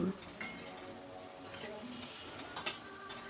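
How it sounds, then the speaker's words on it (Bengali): Beaten egg being stirred and fried in a pan over medium-high flame, a quiet steady sizzle broken by occasional sharp scrapes and clinks of the spatula against the pan. "অনবরত নেড়ে নেড়ে ডিমটাকে খুব ভালো করে ভেজে নিতে হবে"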